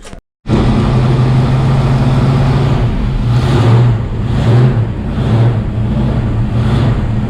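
A neglected 1973 AMC Pierre Cardin Javelin muscle car runs close by after a brief silence, its engine holding a steady low rumble with a few mild swells in revs and no voices.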